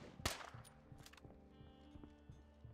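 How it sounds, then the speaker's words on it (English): Gunfire in the video game State of Decay 2, a sharp loud shot at the start followed by scattered fainter bursts and pops over a low droning background, fairly quiet overall. "Now they're shooting again."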